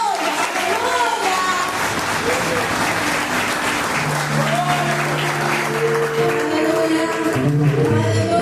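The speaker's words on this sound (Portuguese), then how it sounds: "Você pode aplaudir a Jesus nessa noite." A church congregation applauds steadily throughout a worship service, a dense wash of clapping with voices and music woven underneath.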